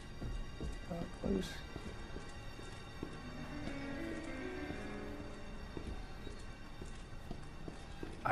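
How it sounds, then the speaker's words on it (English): Heavy, slow footsteps from the pursuing Mr. X in Resident Evil 2, thudding faintly through game ambience while people talk over them. "Do you guys hear that extra set of footsteps?"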